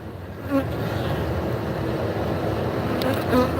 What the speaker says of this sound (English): You would think they were killer bees with the way they're coming at me.